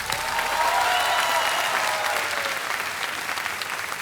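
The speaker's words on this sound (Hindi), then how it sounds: "तालियां बज जाए प्रीति जी के लिए।" Studio audience applause for a contestant on the game show KBC (Kaun Banega Crorepati) Season 10, a dense, steady wash of clapping that holds for about four seconds without a break.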